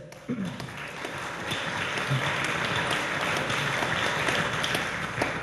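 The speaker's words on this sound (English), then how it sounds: "you can applaud that" Sustained audience applause at a city State of the City address, many hands clapping loudly and steadily after a brief voice at the start.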